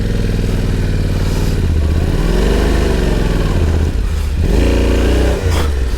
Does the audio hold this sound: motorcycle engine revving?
yes